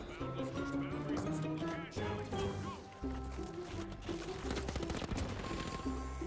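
Rapid automatic gunfire bursts from the video game The Finals, dense and continuous over a low in-game rumble, loud and close throughout.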